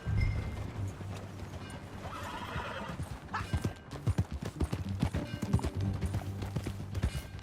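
Horse hooves clip-clop in Red Dead Redemption 2, a steady close rhythm of hoofbeats that grows louder midway, with a horse whinnying and a low background hum.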